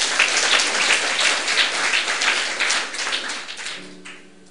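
A church congregation breaks into loud, sustained applause, a thick wash of many hands clapping that fades toward the end, leaving a faint tone.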